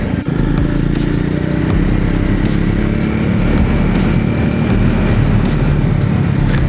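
A Triumph Scrambler 400X motorcycle's exhaust drones loudly and steadily while riding in the city, mixed with strong wind rush and no pauses.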